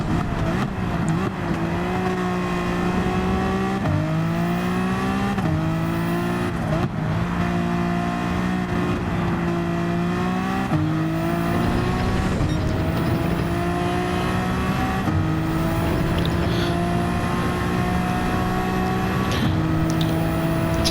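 A race car engine in Gran Turismo 4 revs loud and continuously, climbing through the gears with repeated rising pitch sweeps and brief drops at each shift, alone without talk.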